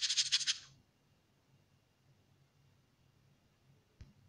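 A crow caws in one harsh, raspy burst right at the start, then near-silence follows with a faint hum and a single click shortly before the end.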